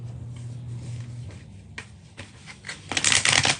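Oracle cards being shuffled by hand, a run of soft riffling and slapping card sounds that builds to a louder, denser flurry near the end, close up with no talking.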